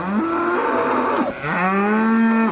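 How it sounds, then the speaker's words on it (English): Cows in an angry herd behind a farm gate moo loudly and close by, two long, drawn-out bellowing calls, one after the other. "A gate, coupled with a herd of angry cows."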